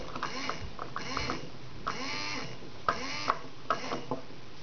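Small toy electric motor from a children's circuit kit switching on and off in short bursts, a faint whirring hum with light ticking clicks, close by amid quiet room noise.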